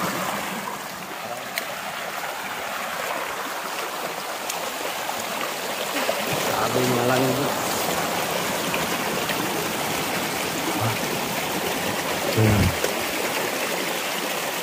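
A river at Lamba Falls in Banga, South Cotabato flows in a steady broadband rush, continuous and fairly loud, with a brief spoken remark briefly rising above the water.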